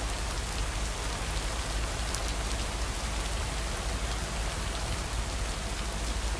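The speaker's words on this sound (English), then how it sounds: "Can't harvest taters with all this rain." Steady rain pours down in the video game Lake, a dense, even hiss of drops on surfaces that holds at a constant level throughout, with no voices.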